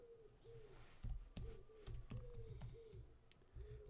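Fast, uneven computer keyboard typing in irregular bursts of sharp clicks, close and fairly quiet, while a pigeon or dove coos repeatedly in the background.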